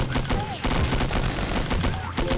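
Rapid game gunfire from the mobile shooter Milk Choco crackles in dense bursts throughout, with in-game sound effects and some voice mixed in.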